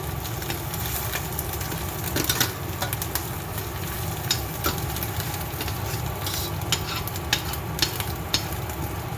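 Ginger garlic paste frying in a pot over a low flame, a continuous low sizzle with a hum beneath and intermittent scraping stirs and clicks, close by, no talking.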